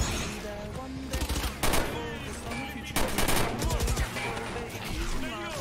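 Gunfire in the Valorant first-person shooter: several bursts of rapid automatic fire and single shots echo through a busy game mix, with loud volleys near the start and middle and steady game sounds and faint voices underneath.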